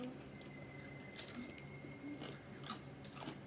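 A crunchy pickle from a Connecticut deli is bitten and chewed up close, giving a few soft, crisp crunches at a very low level with no talk.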